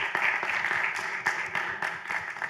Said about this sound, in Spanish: Un fuerte aplauso para José Miguel.